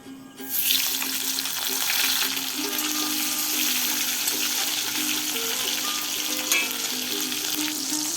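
Chopped tomatoes frying in oil with a dried red chili and whole cumin for khichuri: a loud, dense sizzle bursts up after a brief quiet start and holds steadily close by, with faint stirring scrapes.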